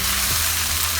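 Cooked rice sizzles loudly in a hot pan for vegetable fried rice, a dense, continuous frying hiss close up across a brief moment, with no voices.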